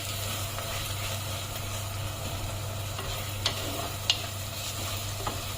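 Chicken frying in a clay pot for a village-style curry, a steady close sizzle with occasional scraping stir sounds and a few sharp clinks over a constant low hum.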